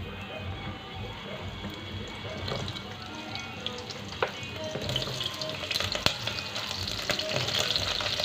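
Pointed gourd (parwal) pieces fry in oil left from frying potatoes, a dense, even sizzle with occasional sharp stirring knocks growing brighter toward the end, no speech.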